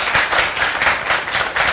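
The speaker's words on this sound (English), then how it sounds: "I think it deserves a round of applause." Conference audience clapping in a short burst during a panel on online freedom in the MENA region, loud, close rhythmic claps with a pulsing beat.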